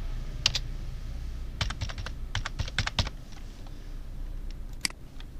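Contact details are typed on a computer keyboard while a Facebook cover is designed in Adobe Illustrator. Crisp keystrokes come close in a quick run mid-clip, with a few scattered taps before and after, and no one speaks.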